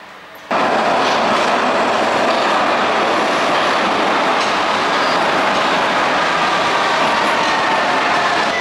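A Vienna U3 metro train at Herrengasse station starts abruptly after a brief quiet moment and then rumbles loud and steady, with rattling, clattering wheels and a faint squeal.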